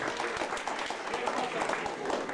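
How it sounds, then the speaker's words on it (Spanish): Guests at a quinceañera party applaud in a dense, continuous burst of clapping that stays fairly loud throughout, with voices mixed in. "¡Bravo! El aplauso fuerte que viene, ¿eh?"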